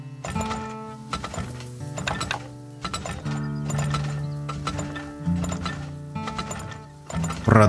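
Horse hooves in the video game Turmoil clatter in repeated rhythmic clip-clop bursts over a steady mechanical, ratcheting game backdrop, continuous and fairly loud with no talk.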